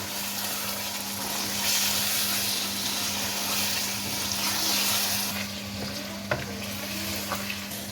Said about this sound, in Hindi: अब हमने जो पालक जो थी हमने फ्राई की थी वो इसमें डाल दें। अब इसको इसमें मिक्स करें।